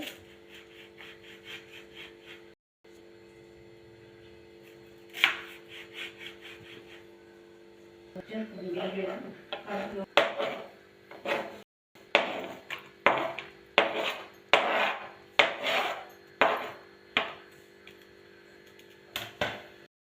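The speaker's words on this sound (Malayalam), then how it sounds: "ഇനി ഇതിലേക്ക് 2 സവാള അരിയുന്നുണ്ട്." Two onions are chopped with a knife for a chicken roast, starting with faint scraping and then moving to sharp, close knife strikes on a board that become a quick, uneven rhythm of taps, with no talking.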